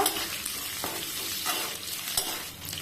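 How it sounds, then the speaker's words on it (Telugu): Ingredients fry in hot oil in a pan for bendakaya (okra) fry, with curry leaves just added. A steady, close sizzle runs throughout, broken by occasional stirring scrapes. "తర్వాత తెల్లవాయలు వేసుకొని బాగా వేయించుకోవాలి."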